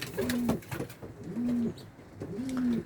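Three soft, low coos from high-flying Bango Misiri pigeons, each a smooth rolling call about a second apart, fairly close, with light background noise between them.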